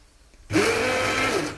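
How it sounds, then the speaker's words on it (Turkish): A blender switches on abruptly after a short quiet moment and runs at a steady loud whir, pureeing a cooked soup topped with a butter and red pepper sauce, close up with no talking. "Şimdi blenderlıyoruz."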